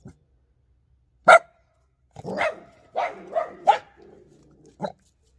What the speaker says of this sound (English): That's next door's dog's barking.